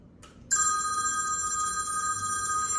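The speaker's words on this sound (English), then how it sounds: "A landline phone is ringing." A landline telephone rings with a sustained bright electronic trill that starts abruptly after a brief faint blip, loud and steady to the end, with no voices.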